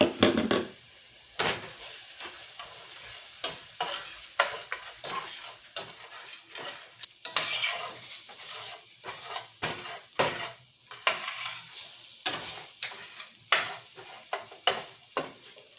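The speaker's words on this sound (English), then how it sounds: "now I'm going to add 1 cup of rice. I went ahead and pre-rinsed it, made sure it was all got the starchy out, and now we're going to brown it up." Pre-rinsed rice browning in a pan, with a steady sizzle under repeated scraping and stirring strokes that come in uneven bursts, close and fairly quiet, with no talking.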